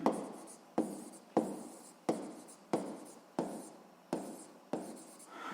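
A pen writes a physics solution on paper in close, quiet strokes, about eight evenly spaced scratchy bursts that each start sharply and then fade. No voice is heard over the writing.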